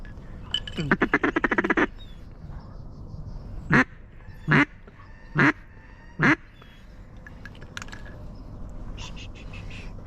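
Wood ducks call during an Arkansas duck-season opener: first a rapid run of about a dozen quick notes, then four separate loud squealing calls spaced roughly a second apart, close by against quiet outdoor background.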